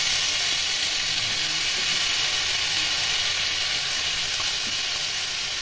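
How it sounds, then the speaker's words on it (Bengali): Eggplant, onion, onion greens and green chillies fry in hot oil, giving a steady, loud, close sizzle with hissing steam that runs unbroken throughout, with no talking. "সমস্ত সবজি ভালো করে নেড়ে নেড়ে ভেজে নিতে হবে।"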